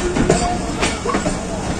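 Pakistan Railway passenger train running on tracks, a steady close rumble of carriages with faint clicking wheels throughout, no voices.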